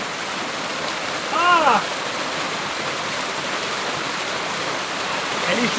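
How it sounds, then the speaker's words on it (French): A small waterfall in a wild river pours with a continuous broadband rush, close and steady, while a person briefly cries out over it. "il y a une mini cascade"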